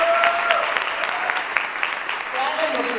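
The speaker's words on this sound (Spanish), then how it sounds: "la vamos a recibir con un fuerte aplauso aquí al escenario" Dense applause from a stage-event audience greeting a guest speaker, steady and fairly loud throughout with some voices mixed in.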